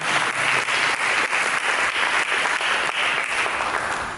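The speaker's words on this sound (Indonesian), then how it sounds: "Berikan tepuk tangan bagi." Congregation applause during a church sermon: a steady, full burst of many hands clapping that carries through the whole stretch, loud and close.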